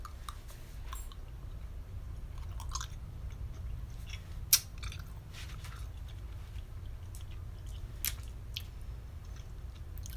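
Soft, close chewing of a grapefruit-flavored snack, with a few crisp bites and crunches scattered over about ten seconds and no talking.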